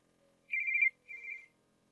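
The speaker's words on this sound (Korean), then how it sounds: "모르는 번호로 전화 왔는데 누구지?" Telephone ringing with an incoming call: two bright electronic ring bursts, one longer and one shorter, sound alone and fairly faint against near silence.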